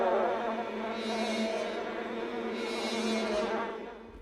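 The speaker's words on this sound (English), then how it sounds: "what are all the flies doing?" A loud, close swarm of flies buzzing in a 1979 horror film, The Amityville Horror, a dense droning hum that swells twice as the insects pass near, with no speech.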